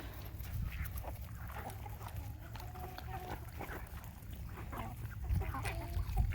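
Puppies and chickens make small yips, clucks and rustles at a moderate distance, with steady low background noise throughout.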